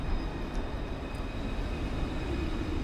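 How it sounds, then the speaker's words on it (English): A Dublin tram pulls away from the GPO stop on O'Connell Street with a steady, fairly faint rumble and hiss that carries on unbroken with no voices. "I waved the tram goodbye"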